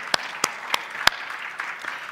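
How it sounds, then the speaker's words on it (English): Scattered applause from a conference audience, a handful of sharp separate claps at an uneven pace, thinning out near the end, with no voices over it. "please let's give him a round of applause"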